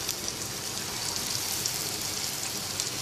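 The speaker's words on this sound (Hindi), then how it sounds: "अब इसके अंदर ये चॉप्स डालेंगे और इनको नाइस गोल्डन कलर में फ्राई कर लेंगे।" Mutton chops fry in hot oil in a pan over medium heat, giving a loud, steady, dense sizzling hiss that runs unbroken throughout with no voices.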